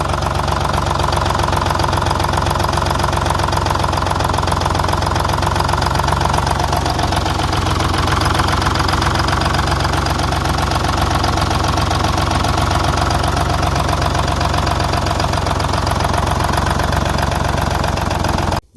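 A diesel engine on a Texas silversides rescue runs at idle right after its first start, a steady knocking rumble that stays loud and continuous throughout with no talk.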